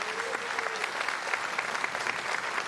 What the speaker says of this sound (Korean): 대통령께 큰 박수 환호를 보내주시기 하고 바랍니다.